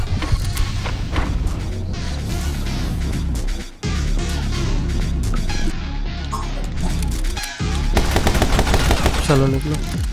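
Shotgun blasts in the video game My Friend Pedro come as a dense, loud barrage of rapid gunfire with only brief breaks, almost continuous across the stretch.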